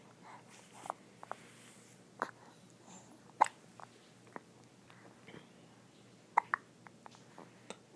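A baby boy hiccups repeatedly in short, sharp bursts spaced a second or so apart, faint and close against a quiet room with no talking.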